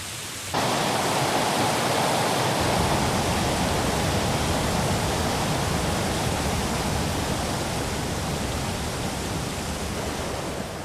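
Heavy tropical downpour in Panama's wet season, a dense roaring wash of rain that starts abruptly and then pours on steadily and loudly without pause.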